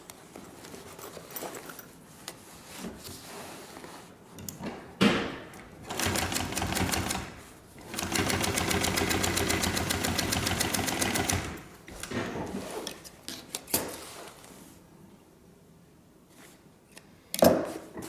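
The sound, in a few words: sewing machine stitching a backpack seam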